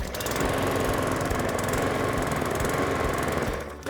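A Cobra M40SPB self-propelled petrol lawn mower's engine running after a recoil start, a loud, close, rapid chugging drone held steady for a few seconds.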